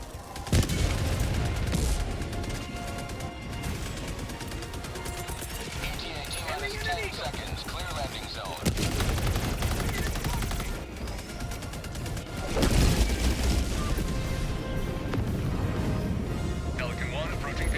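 Sentry turret fire in the video game Helldivers 2, a dense battle soundscape with continuous rattling gunfire, mechanical clanks and booms, heavy bursts around the midpoint and near the end, voices in the mix.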